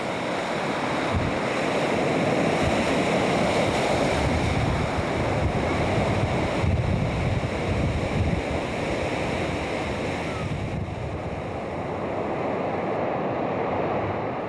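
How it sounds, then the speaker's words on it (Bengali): Big monsoon surf rolling onto the beach at Cox's Bazar, with strong gusting wind blasting the microphone; a loud, continuous roar of breaking waves and wind fills the whole stretch. "ধেয়ে আসা বিশাল বিশাল ঢেউ আর দুরন্ত বাতাসে ঝড়ঝঞ্ঝার আগমনী বার্তা।"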